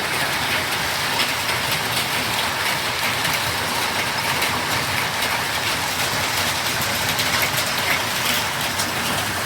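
Steady, heavy thunderstorm rain pours continuously with a dense hiss and fine crackle, unbroken for the whole stretch and with no voices.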